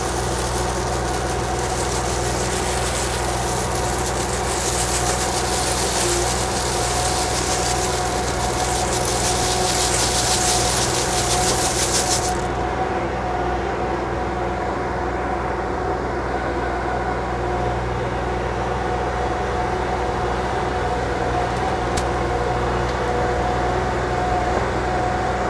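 KYMRON XL50 wheeled skid steer engine running steadily at a constant idle-like drone throughout, with a loud broadband hiss in the first half that cuts off midway, leaving the low engine hum alone.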